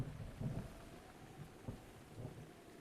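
Quiet, steady rainfall in the Breath of the Wild game, a soft wash of noise with faint low rumbles throughout and no one talking.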